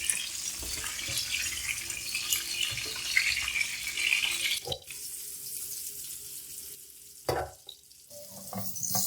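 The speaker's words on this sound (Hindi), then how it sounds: "हम इसको शैलो फ्राई करेंगे।" Potato pieces shallow frying in oil in a pan for a Kashmiri dum aloo, giving a steady close hissing sizzle broken by a few brief clatters and stirs.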